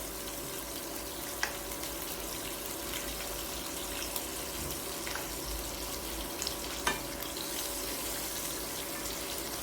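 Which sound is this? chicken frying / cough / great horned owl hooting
chicken frying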